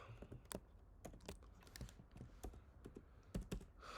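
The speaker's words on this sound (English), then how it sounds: "I'm trying to learn blind typing in English, so I mistype sometimes" Typing on a computer keyboard with close, irregular clicks and clacks in uneven bursts, keys struck at a hesitant, stop-start pace against a quiet background.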